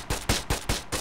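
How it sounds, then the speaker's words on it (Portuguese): Shotgun blasts in GTA San Andreas boom out in a steady series, five sharp heavy reports spaced about a fifth of a second apart, close and with no talking. "Minha nossa, essa shotgun."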